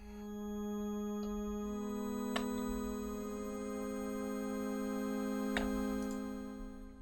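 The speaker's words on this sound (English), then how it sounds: "it's time to add like a pad sound as like a backing element to this." A soft, sustained synthesizer pad preset holds a low, steady drone with faint upper harmonics, swelling gently in and out, quiet and alone, with a couple of small clicky blips over the wash.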